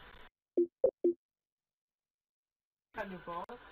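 A phone gives three short electronic beeps, soft and close, in a quiet room, followed after a pause by people talking.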